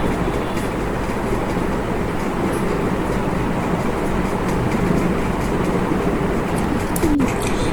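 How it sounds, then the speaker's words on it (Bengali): A male pigeon coos in a loft of healthy breeding pigeons, its calls sitting within a dense, steady wash of broadband background noise that runs the whole way through, with no talking. "দেখেন নরটা কি সুন্দর করে ডাকতেছে"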